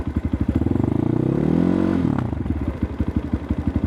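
A new Geon GNS 300 Motard motorcycle engine runs close by, its uneven pulsing exhaust beats swelling into a smooth rising rev around the middle before dropping back to a choppy, sputtering idle.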